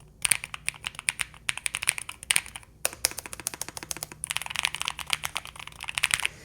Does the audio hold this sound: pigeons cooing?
no